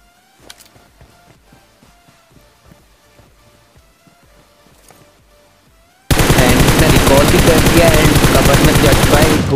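Gunfire in the mobile battle-royale game BGMI starts as faint scattered shots and sparse clicks. It then erupts into a sudden, loud, continuous burst of rapid automatic fire that holds steady to the end.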